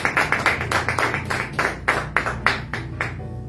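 A small church congregation claps in irregular bursts, the sharp hand claps loud and close, fading toward the end.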